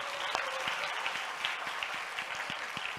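A church congregation applauds together, a dense and steady wash of clapping from a large room with a few sharper individual claps standing out.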